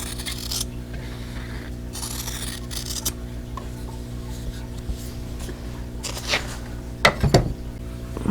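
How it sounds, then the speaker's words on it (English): Scissors snip through quilting fabric along a drawn line, giving soft close rubbing cuts followed by a few sharper clicks near the end, with no talk. "now I need to cut on this drawn line"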